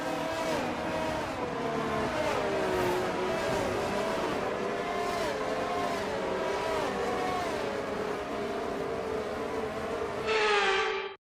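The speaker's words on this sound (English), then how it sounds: "As the cars make their way back to the starting grid to form up and get ready for lights out" F1 race cars on a formation lap in the F1 23 racing game, several engines droning and shifting pitch together in a steady loud pack, with a brief rise in intensity near the end.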